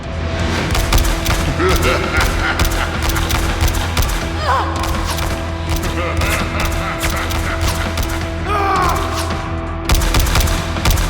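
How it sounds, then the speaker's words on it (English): Rapid bursts of gunfire crackle over a loud, rumbling action mix with thuds and booms, dense and continuous throughout. "protect the innocent lives from the hail of gunfire"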